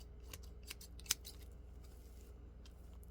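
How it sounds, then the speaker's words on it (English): Scissors cutting hair close by during a hair-styling session, with a few soft snips scattered through the stretch and one sharper, louder snip near the middle. "We're just gonna cut your hair."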